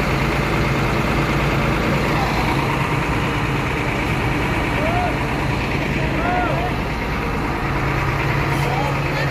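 A goat-transport truck's engine idles loudly nearby after five goats are loaded, a steady low diesel rumble that runs throughout while someone talks over it.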